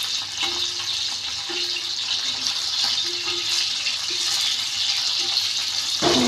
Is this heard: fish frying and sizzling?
yes